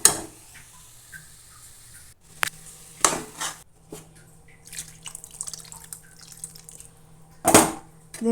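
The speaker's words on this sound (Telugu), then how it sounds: "ఇందులో మనము వాటర్ వేసుకుందాం" Water is added to a cooking pan of drumstick and egg curry, giving quiet, scattered splashes and drips with a few sharper clattering bursts.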